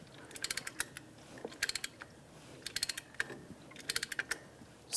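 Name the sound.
pushing back Jeep Renegade brake caliper piston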